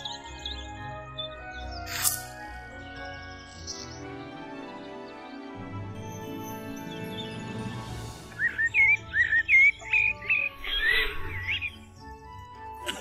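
Birds chirping in an animated folk tale scene, a quick run of bright, close chirps near the end following quieter ambient tones and sound effects.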